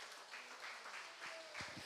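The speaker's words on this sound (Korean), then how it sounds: "박수 한번 칩니다. 다시 한번." A church congregation claps during a Sunday afternoon service, a faint, steady patter of many hands with a few louder, nearer claps toward the end.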